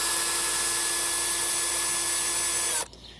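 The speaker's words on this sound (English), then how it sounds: "I just find it easier with a drill to do this." A power drill runs steadily for close to three seconds, backing a screw out of a Freddy-style metal glove finger piece, a loud continuous whine that cuts off abruptly near the end.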